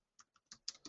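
Quick bursts of computer keyboard typing, a few irregular clusters of keystrokes close by, fairly quiet and with no talking.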